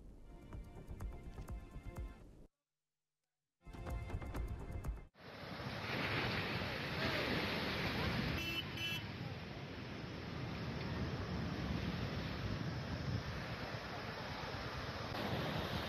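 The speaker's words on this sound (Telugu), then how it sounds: "తుఫాను కారణంగా కాకినాడ జిల్లా ఉప్పాడ తీరంలో రాకాసి అలలు ఎగిసిపడుతూ" Huge cyclone-driven waves crash on Uppada beach in Kakinada district as a loud continuous roar of surf, mixed with strong wind buffeting the microphone, after a brief cut and some earlier background noise.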